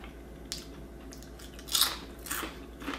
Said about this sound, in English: And that's like a hard, crunchy, crispy chip.